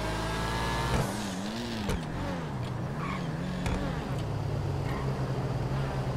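A sports car engine revving in Grand Theft Auto 5, a steady close motor drone whose pitch swoops up and down through several throttle blips, continuous for about six seconds with no talking.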